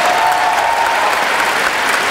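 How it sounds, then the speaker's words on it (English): Audience at a poetry slam applauding a poet, a dense loud burst of clapping that fills the space, sustained and even throughout. "Applaud the poet."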